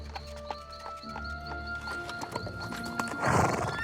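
Horse-drawn carriage arriving for a royal coronation ball, steady clip-clop of hooves with a horse whinnying near the end, close and clear with no one speaking.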